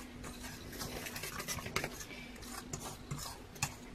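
Pancake batter being whisked in a bowl, with steady soft clinks and scraping of utensil against the bowl running throughout at a moderate, close level.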